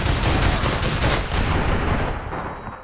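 Loud, close gunfire from the video game APB Reloaded sounds as a rapid, continuous burst of automatic shots that tapers slightly at the end.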